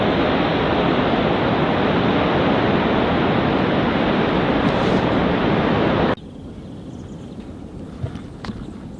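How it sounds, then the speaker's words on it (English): Ocean waves crash below mountain cliffs at Thor's Well as a loud, steady roar of surf and wind that cuts off abruptly, leaving quiet outdoor ambience with a few faint knocks. "the ocean with the waves crashing"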